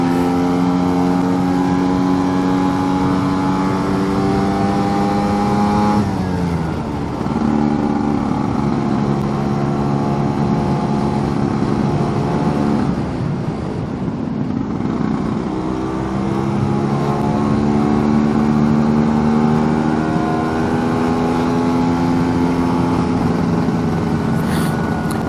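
A Lambretta scooter engine labours uphill in second gear, a loud, close, buzzy two-stroke drone whose pitch climbs steadily, dips at gear and throttle changes, then rises again, running continuously with no speech.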